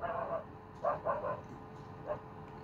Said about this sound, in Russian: что там собаки гавкают